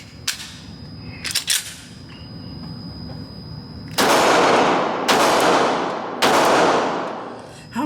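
A Smith & Wesson Sigma 9mm pistol fires outdoors: two sharp shots ring out early, then three loud, evenly spaced close reports, each trailing off in a long echoing decay.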